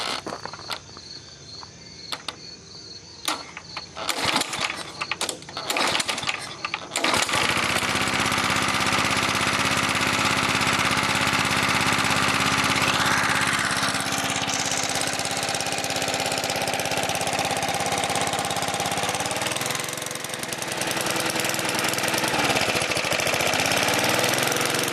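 A 1960s Sears 20-inch rotary lawn mower built by Roper with a Tecumseh 3HP engine: a few rough pull-start attempts, then the engine catches and runs loud and steady, close by, with slight wavers in speed.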